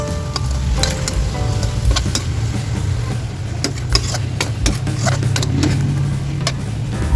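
Onions hit a hot pan for pinakbet and fry with a loud, steady sizzle, broken by scattered clicks and clatters of utensils against the pan.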